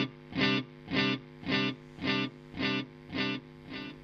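An electric guitar runs through a Boss DD-500 digital delay pedal, with seven evenly spaced repeating notes pulsing at a steady rhythm and fading slightly toward the end as the feedback control is adjusted.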